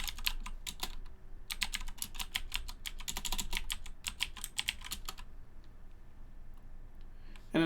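Someone types ipconfig commands on a computer keyboard, giving quick, close bursts of key clicks with short pauses between the runs.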